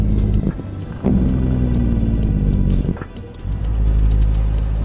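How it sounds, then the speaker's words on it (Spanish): A car rushes past a T680 NextGen 2022 truck on a mountain road at night in American Truck Simulator, a loud close whoosh over the truck's steady engine drone. "Pasa bien el carro, ¿no?"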